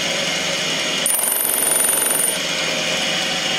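A small cutting machine spinning at high RPM cuts the teeth of a brass crown wheel for an English bracket clock, giving a steady high-pitched whine for about a second over a constant machine hum, close by.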